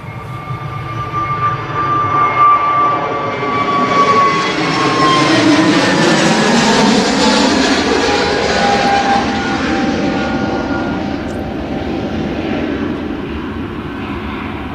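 A British Airways jet airliner takes off from Manchester Airport with a loud, close engine roar. Whining engine tones slide in pitch as it climbs past and raises its gear, then the sound eases slightly.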